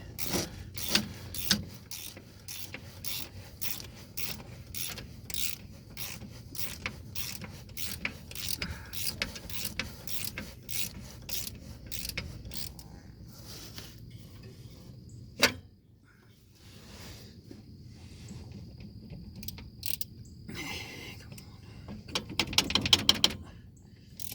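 A ratchet works on a 1983 Chevy K5 with rapid runs of close, sharp clicks. The clicking pauses partway through and picks up again in quicker bursts near the end.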